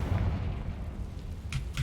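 Confringo fire spell explosions in Hogwarts Legacy: a steady low rumble carries through, broken by two short, sharp blasts close together near the end.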